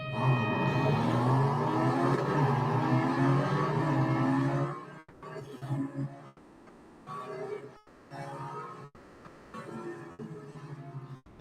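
A Porsche 911 GT2 RS Clubsport in Real Racing 3 drones at high revs through a cup race on the Nürburgring Sprint Circuit, first as a steady loud engine tone, then choppy with abrupt gear changes and dips in power.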